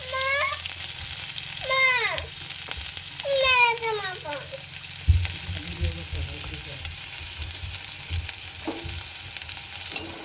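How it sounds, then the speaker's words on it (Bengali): Chopped onion dropped into hot oil with fried cumin seeds for a Bengali begun alu chokha, sizzling and frying steadily throughout, with a sharp clatter near the middle and a few brief high-pitched sounds early on. "জিরেটা ভাজা হয়ে গেছে, ওর মধ্যে দিয়ে দেব কুচানো পেঁয়াজ"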